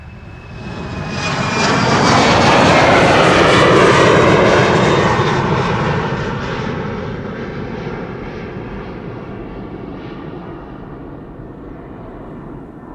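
A jet airliner departs Amsterdam Schiphol Airport, its engine roar swelling loud and close for a few seconds, then fading gradually into the distance as it climbs away.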